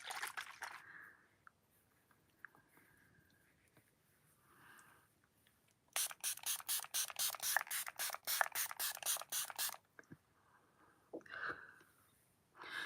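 Beauty Crop Glow Milk Mist face mist spritzed from a pump bottle in a run of about a dozen quick, crisp, evenly spaced hissing sprays, close and fairly loud, with quiet stretches and faint movement before and after.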